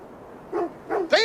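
Dog barking in Assassin's Creed Valhalla: three short, rising yelping barks in quick succession over a quiet background, with the final one loudest.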